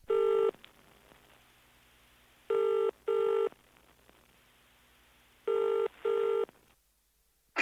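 A landline telephone rings in a steady British-style double-burst pattern: three distinct pairs of bright electronic tones separated by short quiet gaps, loud and close, before an answering machine picks up and the line falls silent.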